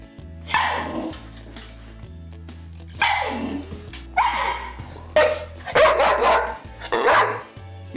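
A Bull Terrier barks in a run of separate sharp barks, fairly close and loud, some spaced and a few in quick pairs, over a low steady background hum.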